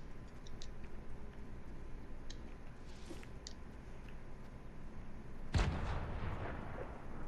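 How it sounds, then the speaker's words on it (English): A grenade explodes in a video game: a single loud, sharp blast that booms out suddenly after several seconds of quiet background ambience with faint ticks. "You threw that grenade?"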